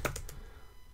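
A computer keyboard gives three quick key clicks close by, then quiet.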